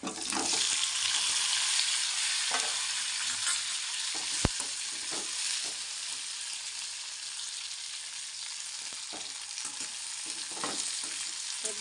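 Red chilies, coriander seeds, cumin, ginger and garlic dry-roasting in a pan, a steady close crackling hiss with scattered scrapes and one sharp metallic click as the mix is turned.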